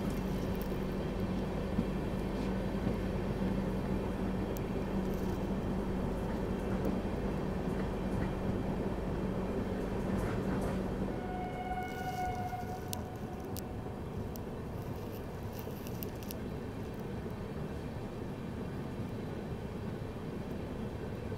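A special train running on the Banaras to Delhi route through fog past Bareilly Cantt station, a steady loud low rumble and rolling roar throughout, with faint higher squeals and clicks joining toward the end, heard from on board without talk.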